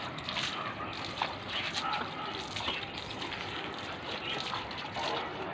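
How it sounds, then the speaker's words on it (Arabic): Water splashed out of a bucket onto a floor, a steady broadband rush of pouring and spattering that continues throughout, loud and close. "معايا بقى جردل كده فيه ميه،"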